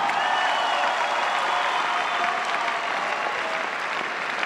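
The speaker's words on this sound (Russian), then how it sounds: "Ваши аплодисменты." Sustained audience applause fills a KVN comedy show hall after the First League season final champions are announced, a dense steady clapping roar with no voices over it.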